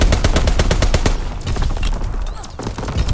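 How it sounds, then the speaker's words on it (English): Rapid anti-aircraft fire in Call of Duty: WWII, a fast run of loud close bursts fading into scattered distant pops and rumble. "Anti-aircraft bursts commenced."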